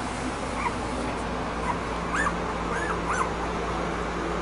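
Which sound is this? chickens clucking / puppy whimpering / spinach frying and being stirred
puppy whimpering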